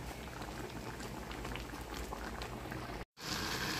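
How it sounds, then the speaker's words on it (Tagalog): Mung beans boil steadily in a pot, a dense, even bubbling wash that holds close and constant before a brief dropout, then resumes. "Una natin ginawa ang pagpapakulo ng munggo na ito."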